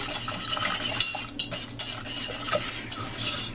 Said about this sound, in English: we're going to keep stirring it